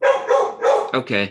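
A dog barks several times in quick succession at a misdemeanor preliminary court hearing, loud and close, followed by a brief spoken word.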